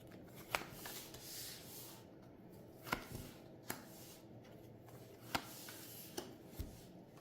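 Tarot cards shuffled and drawn for a yes-or-no reading: scattered soft taps and sharper card snaps at irregular intervals over a steady hiss, close and quiet, with no talk.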